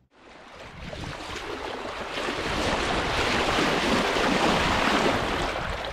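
A huge ocean wave breaks over a sailboat's bow at sea, a loud broadband rushing wash of water that surges in and keeps roaring for several seconds, mixed with wind buffeting the microphone.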